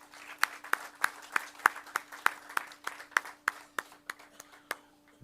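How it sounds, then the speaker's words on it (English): Sparse, slow clapping from a small audience at a lecture event, about a dozen distinct claps in an even rhythm over a faint steady hum. "Put your hands together, ladies and gentlemen, to applaud that single-minded,"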